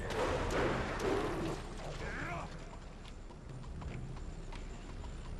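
Demon horse hooves in the video game Jade Empire clop in a quick, muffled rhythm over a dense wash of noise, loudest at first and then fading to a softer background rumble.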